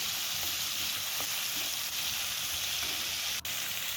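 Tomatoes fry with a little salt in a pan, a dense, continuous close sizzle broken by a few soft stirring scrapes and one brief sharp tap.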